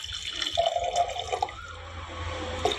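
Water is poured briefly from a small vessel onto a spoonful of sabja seeds in a glass, giving a short trickle and splash followed by faint dripping.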